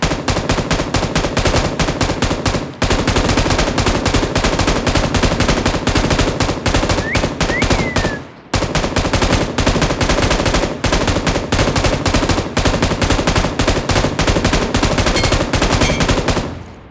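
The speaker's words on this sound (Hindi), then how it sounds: "ये टैप टैप करके क्यों मार रहा था मैं, लेकिन काम कर गया" Rapid bursts of automatic gunfire in the battle royale game BGMI, fired in short taps, loud and nearly continuous with one brief gap, with no talking.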